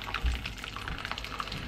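Freshly boiled water is poured from a full kettle, giving a soft, faint splashing trickle with small liquid spatters, heard close and alone without talk.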